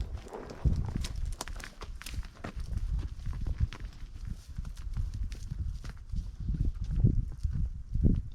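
A herd of cattle walks uphill through sagebrush on a Montana ranch, with steady clopping hoofbeats and brushing steps close by, continuous and uneven in rhythm, with no talk.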